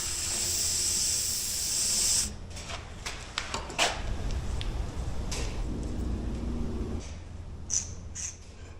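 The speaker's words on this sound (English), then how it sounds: "I'll spray in the tube at the other end with some WD-40" WD-40 spray can hissing into the end of a steel suspension link tube, a close, steady spray for about two seconds, followed by faint clinks and handling noises.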